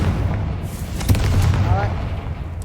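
A booming fire-spell explosion from Hogwarts Legacy, a loud rumbling blast with crackling debris that swells around the middle and lingers, set inside a tomb chamber.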